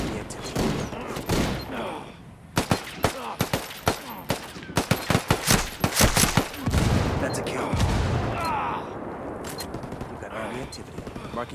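Rapid bursts of gunfire crack in close succession, a dense volley of sharp shots packed into the middle seconds, with rumbling noise and a muffled voice around them.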